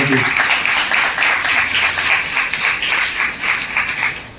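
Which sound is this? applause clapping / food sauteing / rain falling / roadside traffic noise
applause clapping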